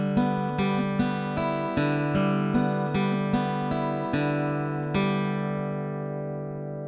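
A guitar picks country banjo rolls, a steady cascade of bright plucked notes in a repeating rolling pattern, played alone and clearly, then left to ring and fade.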